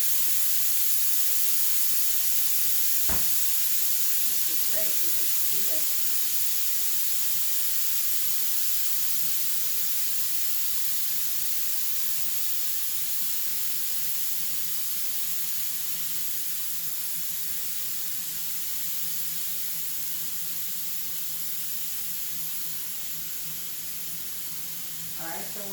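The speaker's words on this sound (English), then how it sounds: "Broccoli is about 4, and you just let it release its steam." Steam hisses out of a cooker after broccoli is cooked, a long, steady, bright hiss that slowly fades, while a person talks briefly over it.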